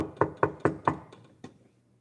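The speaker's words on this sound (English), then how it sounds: "if you hear that knock on your door" Knuckles rap on a door six times, the first four in a quick even burst, then two more spaced out, each hollow and fairly soft before the sound fades away.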